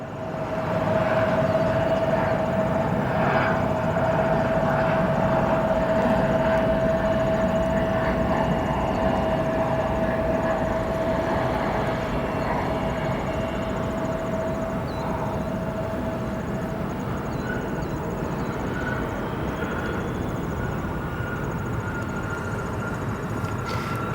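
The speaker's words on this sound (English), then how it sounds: "Here comes our very first arrival for those of you joining us from AVL." An airplane arrives at O'Hare International Airport at sunset, a steady broad jet rumble with a thin whining tone that holds loud and constant throughout.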